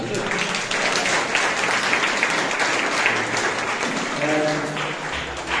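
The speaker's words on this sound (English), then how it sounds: "Round of applause for Sam." Steady applause from a presentation event audience fills the space, a dense wash of clapping with some voices mixed in, continuing for several seconds.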